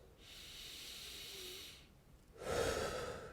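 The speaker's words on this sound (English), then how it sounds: "I'm going to breathe in through my nose" Slow breathing during a warm-up exercise, a long soft inhale through the nose followed by a louder, breathier exhale through the mouth, close and alone.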